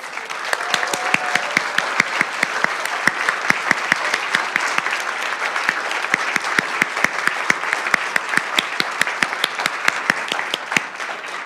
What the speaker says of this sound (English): Accept your applause.